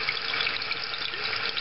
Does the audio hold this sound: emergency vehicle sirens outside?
no